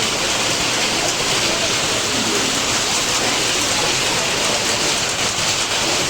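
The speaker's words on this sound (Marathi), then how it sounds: "आता स्टेशनवर पोहोचलेला पाऊस बघ किती आज." Heavy rain pours down at a railway station, a dense, steady roar of water that stays loud and unbroken throughout, with no voices.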